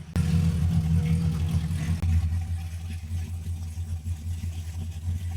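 A C6 Corvette drift car with a Haltech Rebel-managed LS engine warms up at idle: a loud, close, throbbing low rumble that kicks in abruptly and holds steady, with a brief sharp blip partway through and no talking.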